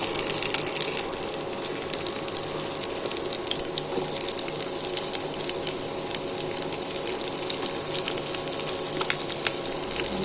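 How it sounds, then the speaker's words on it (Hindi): Onions fry in a kadhai with a steady, close sizzle and crackle that runs without a break and with no talking. "डाल दिया प्याज, तो प्याज को कर लेंगे हल्का सा फ्राई"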